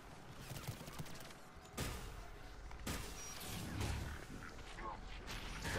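Sustained gunfire in Mass Effect 3 during the Leviathan DLC, steady volleys of shots with mechanical clatter and sharp bursts, fairly loud and continuous throughout, with a voice faintly in the mix.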